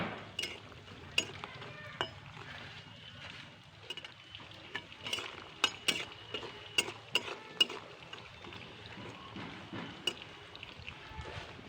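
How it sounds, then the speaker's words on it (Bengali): Lentil dumplings (bori) fry in oil in a pan for a Bengali fish-oil dish, giving a faint steady crackle broken by frequent sharp clinks of a utensil against the pan. "সবার প্রথমে বড়িগুলো আমি ভেজে নেবো লাল লাল করে"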